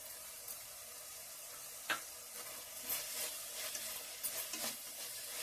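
Eggplant curry fries in a pan after chili powder goes in; a faint, low sizzle runs throughout with a few scattered clicks of stirring.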